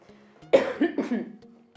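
A person coughs a few times in quick succession, close and fairly loud, the short harsh bursts standing alone over a quiet room.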